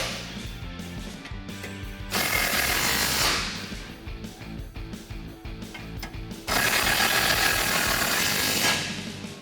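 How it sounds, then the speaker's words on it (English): A ratchet with an 18 mm socket tightens exhaust nuts on a Jeep Gladiator JT 3.6L V6 in loud, steady clicking bursts, two sustained runs separated by a quieter stretch, close and without talk. "Go ahead and grab your tool. Again, 18 millimeter socket."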